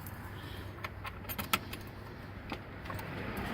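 Keys jangle faintly and briefly while a key is tried in a seat lock, with a sharper metallic click at one point amid quiet background noise.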